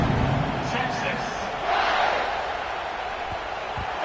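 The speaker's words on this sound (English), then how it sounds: "this crowd is buzzing after that last score" Football stadium crowd buzzing after a 77-yard touchdown drive, a broad steady roar of many voices filling the space, swelling briefly in the middle before settling back, loud and continuous.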